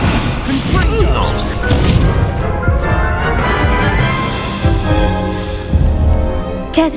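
Confringo spell blasts in Hogwarts Legacy, a wizarding action game, burst as repeated booming explosions and crashes amid combat effects, with a voice shouting over them.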